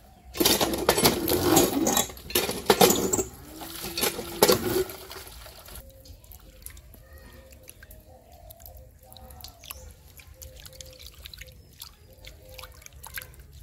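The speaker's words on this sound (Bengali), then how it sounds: "তো এই যে পাতা নিয়ে আসলাম, ধনে পাতা, এখন এগুলো একটু ধুয়ে নেই পরিষ্কার করে" Running water splashes loudly over fresh coriander leaves for about five seconds, then drops to faint trickling and drips over a low hum in a simple village kitchen.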